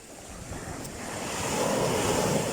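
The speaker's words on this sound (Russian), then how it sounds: "Сегодня прибой сильный достаточно." Strong sea surf washes onto a sandy beach in Primorye at high tide, a continuous roar that swells louder toward the end, with wind buffeting the microphone.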